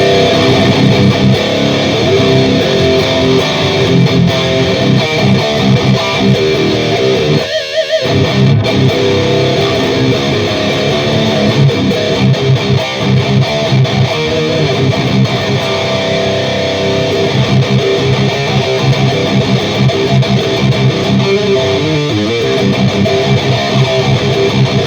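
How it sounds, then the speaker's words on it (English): Heavily distorted electric guitar played through a Line 6 Helix modeling a Revv Generator amp on its red high-gain channel, a dense, continuous metal tone for about 25 seconds with one brief gap, no voices. "But here is the sound of that Revv generator, the red channel"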